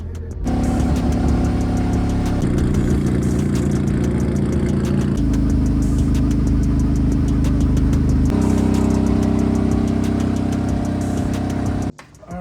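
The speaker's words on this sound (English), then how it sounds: "finally car's on the dyno, and we are going to set up the dyno" A Nissan S13 engine runs on a dyno, droning loud and close with stepped shifts in pitch as revs hold and change, then cutting off abruptly near the end; no talk.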